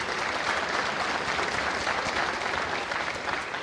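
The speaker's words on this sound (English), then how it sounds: "please give Mr. Rubel a round of applause" An audience at a school band holiday concert gives a band director a round of applause, a dense, even wash of clapping from many hands that fills the room without pause.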